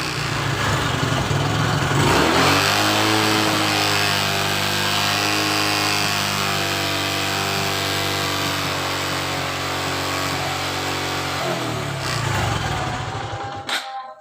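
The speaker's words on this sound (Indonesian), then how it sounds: "mesin supaya cepat panas, kita labat dan kita bunyikan sampai titik yang paling tinggi" A 2018 Honda Supra X 125 motorcycle engine with a fault that makes it stall suddenly is held at a high, steady rev for about ten seconds, a loud, sustained drone that rises sharply at the start and drops away near the end, with no talk.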